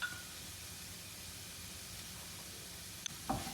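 Garlic, carrot and vegetables cooking down in a pan for shepherd's pie, a faint steady hiss of gentle sizzling with a couple of small clicks near the end, no talking.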